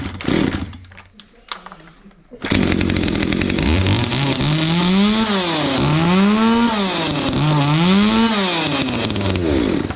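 After a few seconds of quiet clicking and handling, an old chainsaw that sat unused for years starts with a loud roar and keeps running near the microphone, its engine pitch repeatedly surging and dropping in rhythmic revs.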